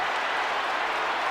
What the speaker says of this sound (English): Listen to that Carlton crowd